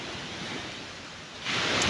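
Sea waves wash onto a beachfront in Buenavista, Quezon province, a steady broad rush of surf that swells louder near the end, with no voices.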